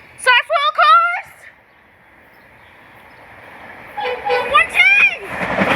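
A train with side rail cars arrives at Elkins, its horn sounding in two loud blasts, fading to a low rumble, then rising rolling rail noise and further horn blasts as it nears.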